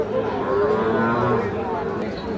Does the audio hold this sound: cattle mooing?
yes